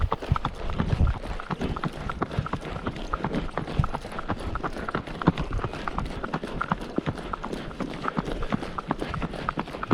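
Horse hooves clip-clop steadily on a dirt trail during an endurance ride on Antelope Island, the rhythmic footfalls close and continuous with a few uneven, stumbling steps.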